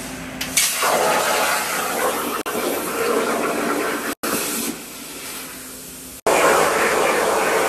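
A plasma cutter runs in a workshop while steel mounts are cut, giving a loud, steady hissing roar that cuts out briefly several times and then resumes, with no voices.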